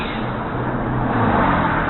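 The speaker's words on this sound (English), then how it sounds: "Let the truck go by." A truck passes on a road in Emmitsburg, Maryland, a steady broadband engine and road rumble that grows slightly louder over two seconds, alone without talk.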